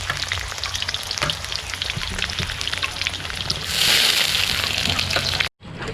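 Garlic and ginger fry in a pan at an outdoor backyard cooking session, crackling and sizzling loudly with stirring clatter. The sizzle swells briefly before the sound cuts out abruptly near the end.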